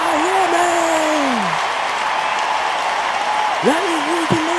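A sold-out wrestling arena crowd cheering, a loud, continuous roar of many voices with a few whoops and a rising shout cutting through it.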